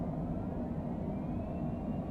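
Jet thrust reversers deployed on landing in Microsoft Flight Simulator, a steady loud low roar with a rumbling engine drone throughout, no voices.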